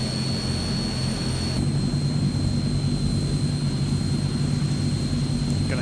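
Engine number 1 of a Transall C160 turboprop in a video game spooling up, a steady droning roar with a high whine that shifts slightly partway through, no one talking.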